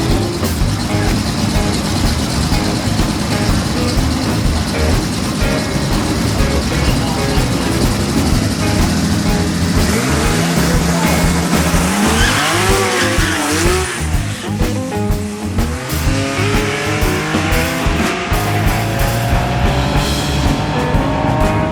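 A twin-turbo inline-six Datsun race car roars past at full throttle on a track, engine pitch climbing through gears with tire squeal, loud and close, with some crowd or commentary underneath.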